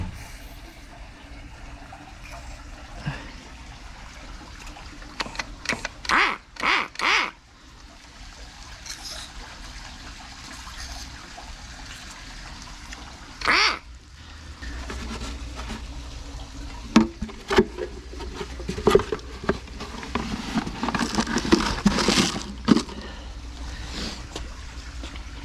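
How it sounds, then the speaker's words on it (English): Water tank draining during winterizing, a faint trickle and gurgle of running water with intermittent clanks and bursts of splashing, growing busier toward the end. "The tank is draining."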